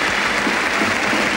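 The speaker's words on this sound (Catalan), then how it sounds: "Els aplaudiments de la plaça de la Vila" A crowd in Plaça de la Vila claps loudly and densely for the local castellers, the Castellers de Vilafranca, a continuous burst of applause with no pauses.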